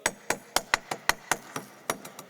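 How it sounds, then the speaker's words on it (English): A mallet strikes dry ice about ten times in a steady, fairly quick rhythm during a science lecture demonstration, each blow a sharp, close, bright knock with no talking. "we'll crush it up a little bit."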